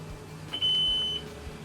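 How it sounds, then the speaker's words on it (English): Transmission on a 2002 Formula 37PC boat beeping after the port engine starts: a single steady electronic tone of about half a second, close and clear over faint engine hum. "You turn the port engine on, you'll hear the transmission beeping."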